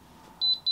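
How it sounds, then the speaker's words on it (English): Three short high-pitched electronic beeps in a row from a Freesub ST-210 mug press, clear and fairly close, over a faint low hum. "So now it beeps."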